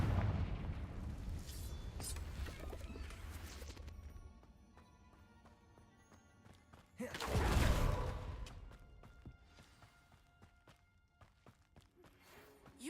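A Confringo blasting spell goes off in Hogwarts Legacy, a single loud, deep burst that swells and rumbles for about a second before settling back under a quieter, busy game background.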